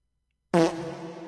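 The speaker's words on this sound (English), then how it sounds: "Dang, I got a fart." A fart erupts suddenly after half a second of silence, loud and buzzy at first, then trailing off into a long, quieter rasp, heard alone and close.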